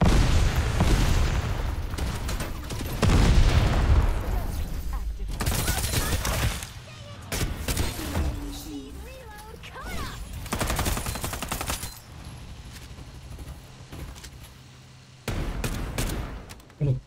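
Rapid bursts of gunfire from the Fanatik weapon in the battle royale game Farlight84, loud and dense in clusters with short gaps, mixed with booms and game effects, voices talking over parts of it.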